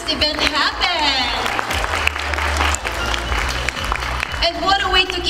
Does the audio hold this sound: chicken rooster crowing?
no